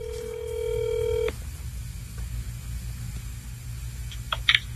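Phone call being placed, with a steady series of DTMF dialing tones in the first second followed by a quiet line hum and a couple of faint beeps near the end; no talking.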